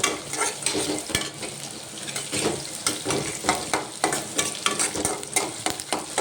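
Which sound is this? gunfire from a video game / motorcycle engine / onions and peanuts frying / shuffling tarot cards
onions and peanuts frying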